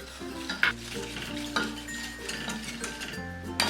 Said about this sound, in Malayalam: ഇതിലേക്ക് ഈ എടുത്തു വെച്ചിരിക്കുന്ന പഞ്ചസാര ചേർത്ത് നല്ലതുപോലെ ഇതൊന്ന് ഇളക്കി കൊടുക്കാം.